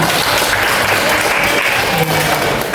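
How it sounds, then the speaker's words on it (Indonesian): A classroom group gives a burst of loud, dense applause, steady clapping filling the whole short moment at close range. "untuk hari ini kita memberikan aplaus untuk kita semuanya"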